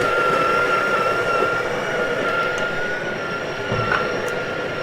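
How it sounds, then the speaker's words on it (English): Breville Barista Pro burr grinder working through coffee beans set at grind level seven, a steady close whirring drone with a sustained high whine, running continuously and alone without pauses. "I'm just gonna let's grind some coffee beans"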